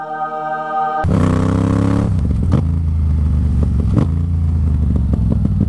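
A supermoto motorcycle engine starts abruptly and revs loudly up close, with a rising whine, then settles into a rough idle broken by a couple of sharp blips, no speech.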